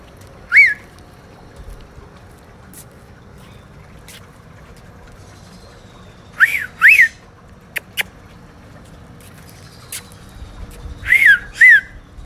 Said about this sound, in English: Hear him calling back?